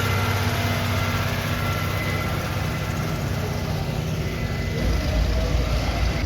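An International 350 diesel tractor in original condition runs steadily close by, its loud continuous engine rumble and clatter dense in the low end, with no voices over it.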